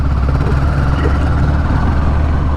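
A motorbike with a top box, out on a weekend ride, gives a steady, deep engine rumble that stays close and unbroken, with no voices heard.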